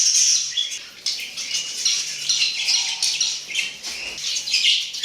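A male zebra finch gives rapid, nasal chirps and squawks among other pet birds including diamond doves, a busy close chorus of short repeated calls with no talking.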